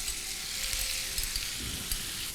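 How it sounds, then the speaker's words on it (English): Marinated squid hits hot coconut oil with curry leaves, setting off a steady, close, loud sizzle and crackle that holds without pause and without talk. "And now I'm going to tip in the marinated squid."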